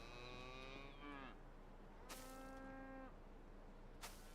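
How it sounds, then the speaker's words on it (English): Cattle in Medieval Dynasty, a medieval farming and survival game, give two clear drawn-out moos one after another, each starting high and sliding lower, heard alone with no talk. "Moo moo, moo moo moo"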